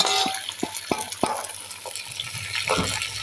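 Broad beans and onion sautéing in a pan, a light sizzle broken by a handful of sharp spoon knocks and scrapes, close and brief.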